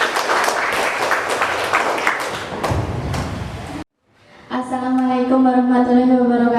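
Audience applause at a school curriculum presentation for a vocational high school, a dense burst of clapping for about four seconds that cuts off abruptly, followed by a voice speaking with musical tones.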